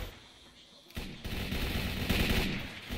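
Sustained automatic gunfire in STALKER: Call of Pripyat, a dense rapid burst that swells louder after the first second and rattles on continuously at close range with no pause.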